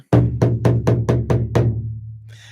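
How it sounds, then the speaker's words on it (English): A traditional Tibetan temple drum used in a Chöd healing meditation, struck six times at an even, steady pace, each beat a deep, resonant boom that rings out and fades, played alone and close. "Will also be accompanied by traditional instruments, the temple drum,"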